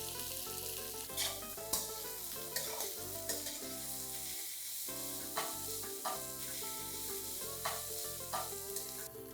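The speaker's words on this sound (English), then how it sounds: "Let's add 5 onions sliced and fry them till they are nice golden brown" Sliced onions fry in a quarter cup of hot oil while being stirred for a biryani, a steady close sizzle with occasional scraping stirs, heard under background music without any talk.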